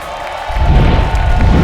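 Studio audience at a TV talent guessing show cheers and applauds for the panelists' guesses, a loud, dense burst of crowd noise with whoops that rises after a brief moment and holds.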